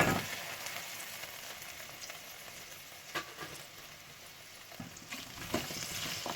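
Mince browning in a frying pan gives a quiet, steady sizzle, broken by a few clattering stirs of the utensil against the pan.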